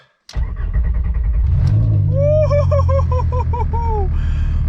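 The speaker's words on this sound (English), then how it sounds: "First startup on the ground." A VW Golf 3 with a swapped VR5 engine cranks briefly, then fires on its first startup and settles into a loud, rattly idle with a few quick revs, the exhaust hanging loose.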